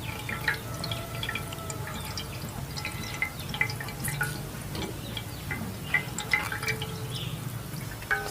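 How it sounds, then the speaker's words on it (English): Juice from grated burnt coconut drips and trickles as it is squeezed out by hand, a soft stream of small irregular drips and splashes at close range. "Just to get all of the juice of the coconut. Squeeze and squeeze."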